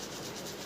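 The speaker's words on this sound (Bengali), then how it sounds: "দেখো দাঁতটা ঘষছি" A toothbrush scrubbing teeth in a short, soft burst of rapid bristle rubbing, close and faint, with no talking.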